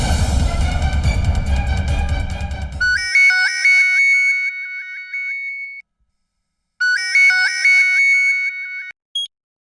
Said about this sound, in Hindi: अरे मंजुला के घर पर फोन करके देख लो ना